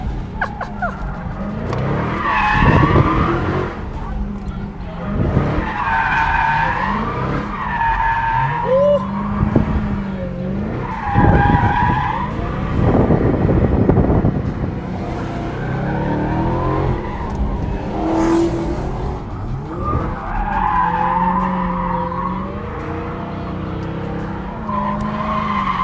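A 797-horsepower Dodge Redeye launches hard from a standstill at a live car auction, engine roaring and tires skidding loudly, with crowd chatter and voices around it.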